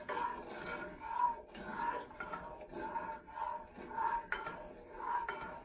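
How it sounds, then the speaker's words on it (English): A whisk clatters rhythmically against a metal pot of pickling brine heating toward a boil, about six regular strokes with bright metallic rings, close and moderately loud. "as this is coming to a boil, you're going to want to whisk this all together"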